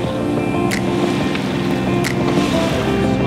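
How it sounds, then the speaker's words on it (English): A sailboat motor sailing under engine power off the Belize cayes, its engine giving a steady low drone with wind and water rushing around the hull and a few brief splashes. No one speaks. "let's motor sail."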